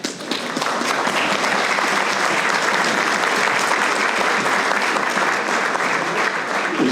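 Sustained applause fills a Hamilton special town meeting hall: many people clapping in an even, continuous roar for several seconds, with no voices over it.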